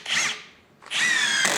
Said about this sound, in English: my finger is still on the trigger, the drill itself is actually cut out